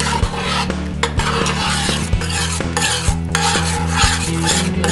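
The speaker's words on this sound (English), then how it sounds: "I'm going to mix it in." Sauce being stirred into the braising liquid from short ribs with cooked barley, a spoon scraping and knocking rhythmically against the pot over a low bubbling simmer, with no voices.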